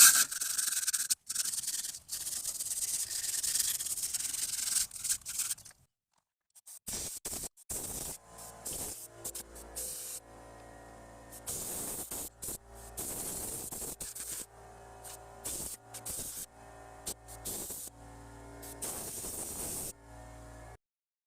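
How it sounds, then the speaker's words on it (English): Rusty parking brake shoes and hardware on a Toyota or Lexus rear brake are blasted with compressed air and sprayed with brake cleaner, giving close, loud, broadband hissing bursts separated by short pauses, with no voices. "use a combination of compressed air and brake clean and clean this up as best as possible and re-lube it"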